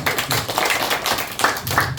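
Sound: group clapping hands

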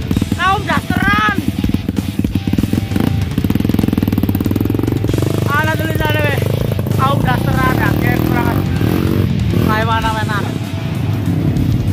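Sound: motorcycle engine on rough trail

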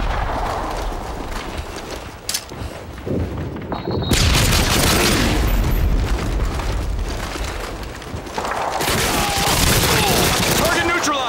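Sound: Predator missile strike explosions in Call of Duty: Modern Warfare 2 video game

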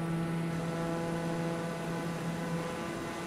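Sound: aircraft engine throttling up in video game Microsoft Flight Simulator 2020

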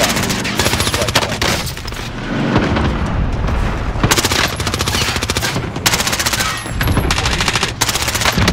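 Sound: airstrike explosions in a video game

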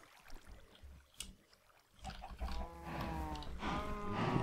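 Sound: cows in the video game Minecraft

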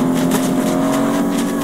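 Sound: car driving in Fortnite, video game

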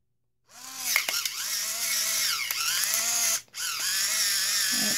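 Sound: Nuvita 2 in 1 electric salt and pepper grinder grinding pepper

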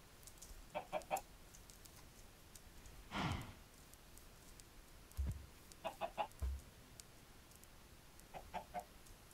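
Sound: chickens clucking in Minecraft video game

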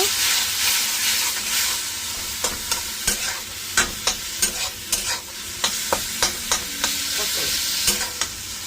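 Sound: sautéing gravy with added melon seeds (char magaj)

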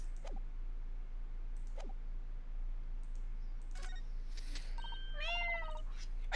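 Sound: voice imitating a cat's meow

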